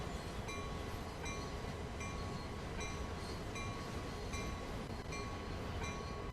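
A locomotive in the Train Sim World video game runs steadily just ahead, with a constant rumbling drone of engine and wheels and faint rhythmic clicks, uninterrupted and without any speech.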